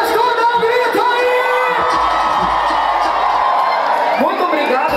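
Carnival crowd at an outdoor street party cheers and shouts together in a loud, sustained roar, with voices whooping over the dense din.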